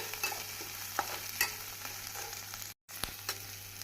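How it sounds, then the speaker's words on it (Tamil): Gentle sizzling of tomatoes sautéing in a pan, with a few scraping stirs of a spatula and a brief dropout near the end. "தக்காளி பழம் போட்டு நாம் 1 நிமிடம் நன்றாக வதக்க வேண்டும்"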